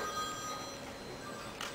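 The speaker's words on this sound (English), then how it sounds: "They're both ringing at the same time." Two mobile phones ring at once in a lecture hall, their steady electronic ringtones overlapping at moderate volume over faint room ambience.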